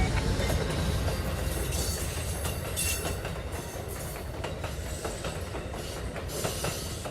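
An Amtrak Cardinal passenger train rolls past over jointed rail in West Virginia, a steady loud rumble of wheels and cars lasting throughout with faint clickety-clack beats and occasional squeal.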